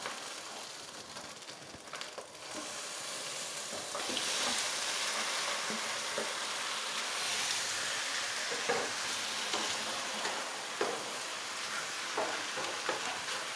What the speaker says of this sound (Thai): ใส่ปลาลงไป รวนกับเครื่องแกงก่อนค่ะ